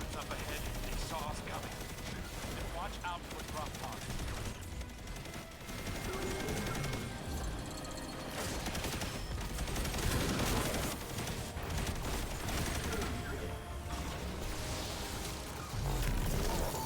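Rapid machine gun fire in a video game, dense and continuous bursts layered with explosions, mechanical clatter and a busy game soundtrack, loud throughout.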